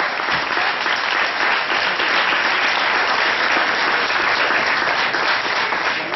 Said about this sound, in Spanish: Fuerte los aplausos para nuestra mesa de honor.